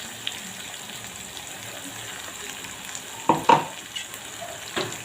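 Masala with ginger, garlic and coriander paste cooks in oil under a low, steady sizzle, with a few clear stirring scrapes and clanks near the end.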